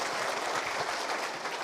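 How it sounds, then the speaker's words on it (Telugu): Crowd at a political rally applauding to welcome Mahesh, a brief, even wash of clapping heard from some distance. "తమ్ముడు మహేష్ గారికి ముందుగా గట్టిగా చప్పట్లతో ఒకసారి స్వాగతం సుస్వాగతం."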